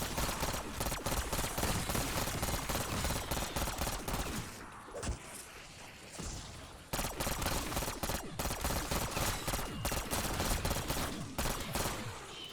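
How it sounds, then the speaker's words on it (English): Burst weapon firing in Black Ops 6 Zombies, dense rapid gunfire that runs nearly continuously for several seconds, pauses briefly, then resumes just as loud and rapid. "since it's a burst weapon, I feel like your shots are like more precise"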